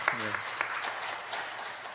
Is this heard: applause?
yes